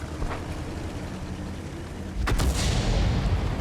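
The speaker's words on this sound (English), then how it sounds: "Oh, look, he took 10 damage from artillery." Artillery fire hits a tank in World of Tanks: a sharp muffled boom lands midway over constant engine rumble and battle noise, followed by louder sustained rumbling.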